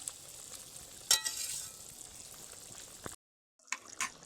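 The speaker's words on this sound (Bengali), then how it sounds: "চলুন এবার ফুটে যাক" A spicy farsa fish tel jhal curry sizzles and bubbles steadily in a pan with oil, a soft continuous frying hiss with a few louder pops, breaking off briefly near the end before resuming.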